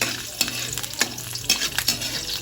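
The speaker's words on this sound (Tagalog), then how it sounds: "lalagyan ko na ng luya" Ginger dropped into a sweet and sour sauce frying for pampano, an even close sizzle broken by sharp utensil scrapes every half second or so, with no talking.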